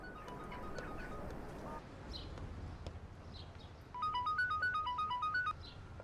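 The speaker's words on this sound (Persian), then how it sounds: "تلفن داره زنگ میزنه." A telephone rings with a bright warbling electronic trill, one burst of about a second and a half that rises above a busy background of ambience and faint noises.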